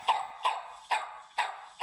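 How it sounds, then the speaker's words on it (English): A dog barks five times at a steady, evenly spaced rhythm, each bark clear and fairly close, with no other sounds. "Afterwards, by a dog barking."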